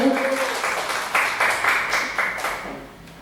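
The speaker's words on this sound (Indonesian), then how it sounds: "tepuk tangan untuk Ibu Komang dulu" A small audience applauds a teacher after her presentation at a school training session in Bali; the clapping is steady and moderately loud for about three seconds, with a brief voice at the start.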